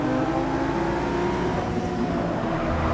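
A Ford GT 2017 in Forza Motorsport 6 Apex on a Rio de Janeiro circuit, its engine droning loud and steady with a dense, continuous roar and slight pitch shifts, close and unbroken throughout.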